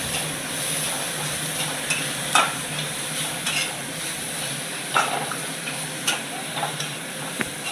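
Soybean curry spices, with cumin, turmeric powder and salt, are stirred and fried in a pan, giving a steady close sizzle broken by repeated scraping and clinking of the spoon against the pan.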